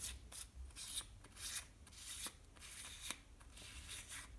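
A small threaded battery cover on a Crimson Trace CTS-103 red dot sight is unscrewed, giving faint, close scraping and rubbing twists in short repeated bursts.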